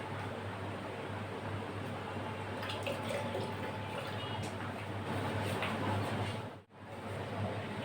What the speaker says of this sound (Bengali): আমি এতে একটু জল দিয়ে দিচ্ছি।